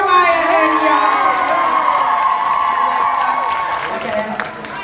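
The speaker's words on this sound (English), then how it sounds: "Can we get a round of applause for Maya and Yaya?" An audience at a live stage show in Kansas City erupts in loud cheering, high shrieks and applause for Maya and Yaya, a dense, sustained crowd roar throughout.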